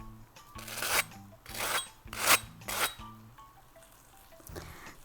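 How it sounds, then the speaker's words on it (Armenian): A knife slices through a crisp Mexican quesadilla in four rasping, crunchy strokes, close and fairly loud, separated by short pauses, with no talk. "Կասադիասը ընդհանրապես այսպես ենք կտրում։"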